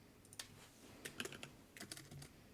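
Keyboard typing from a horror survey video game, quiet scattered clicks in short bursts, a few isolated taps then quick clusters of keystrokes, close but faint.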